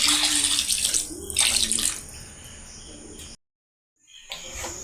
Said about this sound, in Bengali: যখন দেখবেন ম্যাঙ্গো পিউরির জলটা পুরোটা শুকিয়ে গেছে, তখন 2 কাপ দুধ ঢেলে দিতে হবে।